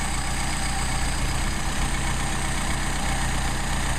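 A Mercedes 190SL engine idling while its carburetors are adjusted, a steady low rumbling idle with an even pulse, close and continuous with no talking.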